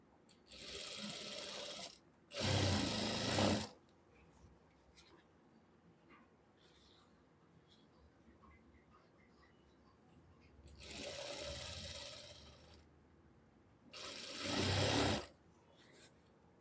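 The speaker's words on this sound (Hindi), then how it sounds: "अब यहाँ पे लगानी है सिलाई, और ये ध्यान रखना है सिलाई हमारी इलास्टिक पर ना लगे" Sewing machine stitching elastic onto palazzo trousers in two pairs of whirring runs lasting one to two seconds each, separated by quiet pauses, close and moderately loud, with no talking.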